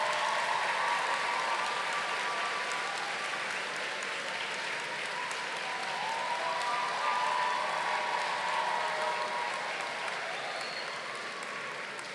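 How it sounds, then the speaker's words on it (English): Graduation ceremony audience at the University of the West Indies, Faculty of Humanities and Education, applauding in a steady, dense wash of clapping that holds evenly throughout with no voices. "give them an enormous round of applause"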